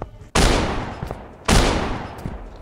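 Gunfire in the video game Garry's Mod, two loud close blasts about a second apart, each trailing off in a long echoing decay.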